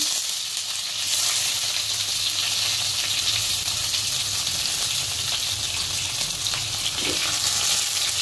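Pieces of pointed gourd and eggplant fry in hot oil with a bright, continuous sizzle, loud and close, holding steady throughout with faint stirring beneath.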